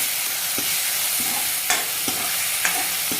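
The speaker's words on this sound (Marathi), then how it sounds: "त्याला एक मिनिटभर आपण परतून घेऊ अशी सरसरीत फोडणी बसली पाहिजे कढीला" Oil sizzles loudly and steadily in a pan as a spice tempering for kadhi fries, while a spoon scrapes and stirs through it every half second or so.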